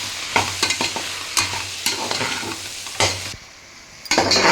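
A spoon stirs biryani powder and turmeric into a cooking pot, repeated scraping strokes over a sizzle with a brief pause before stirring resumes.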